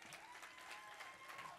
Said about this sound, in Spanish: siga dándole el aplauso al Señor